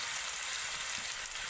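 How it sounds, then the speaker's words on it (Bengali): Potato and carrot frying in a pan give off a steady, fairly quiet sizzle with a broad hiss that barely changes from start to finish. "প্রথমে আমি আলু আর গাজরটা দিয়ে ভালো করে একটু ভেজে নেব।"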